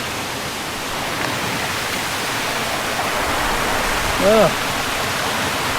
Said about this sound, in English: You have the water running down there. Nice creek.